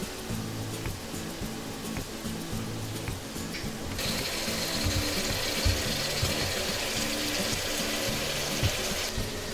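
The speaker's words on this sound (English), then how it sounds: "we're using 2 packs of jambalaya mix, so we're adding in 5 cups of water" Five cups of water pour into a cooking pot for jambalaya, a steady rushing splash that swells louder partway through and carries on over a low, rhythmic background hum.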